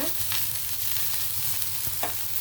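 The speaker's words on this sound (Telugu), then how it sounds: "ఇది నువ్వుల నూనె అందువల్ల నురగ వస్తుంది పొంగు వస్తుంది" Cold-pressed sesame oil sizzles and foams in a pan, a steady close crackling hiss with a few brief stirring scrapes, and no voices.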